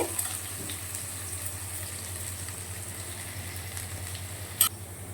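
Onions fry in oil in a pan, giving a steady, moderately loud sizzle with one sharp click near the end.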